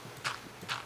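Two quick horse hoof clops in Minecraft, spaced about half a second apart, faint and alone over quiet background.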